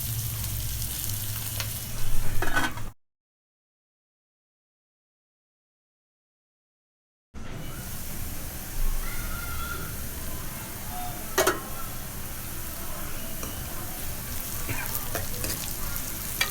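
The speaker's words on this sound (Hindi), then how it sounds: "प्याज को हल्का जो है ना फ्राई करना है" Chopped onions fry lightly in a pan for a ridge gourd (turai) curry, giving a steady close sizzle with occasional stirring; the sound drops out completely for a few seconds midway, then resumes.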